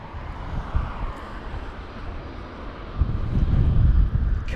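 A Loganair regional airliner taxis at Heathrow during a storm, its engines giving a broad steady roar that swells louder toward the end, with wind buffeting underneath.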